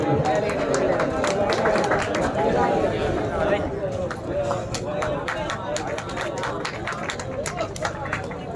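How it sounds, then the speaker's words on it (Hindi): Audience applause at a bhajan singing competition prize ceremony in Shobhapur, a steady wash of clapping from a large crowd with chatter and murmuring mixed throughout, holding fairly even for several seconds. "भैया तालियां अभी भी कमजोर हैं"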